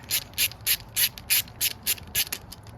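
Ratchet wrench clicking in a steady run of about nine sharp, close pawl clicks while loosening a long bolt on the clutch of a 2020 Honda CRF450R motorcycle, with no talk.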